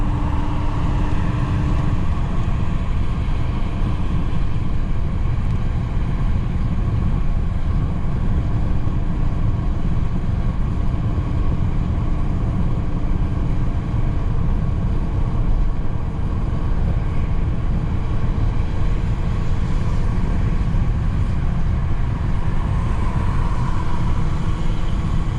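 Interior road noise inside a 2015 Mercedes-Benz E-350 4-Matic W212 cruising on a highway: a loud, steady broadband rumble and tire roar that holds constant, with no talking.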